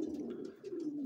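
Breeding pigeons in a loft coo in low, rolling, overlapping calls, close and steady for the whole moment, with no talk.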